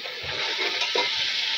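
Water splashes into tomatoes frying in a cooking pot for biryani, a steady close-up hiss and sizzle with a brief gush near the middle.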